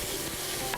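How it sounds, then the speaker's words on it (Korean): Zucchini and meat are stir-fried in a hot pan, giving a brief, close sizzle with the scrape of stirring. "달군 팬에 호박을 달달달 볶아주세요."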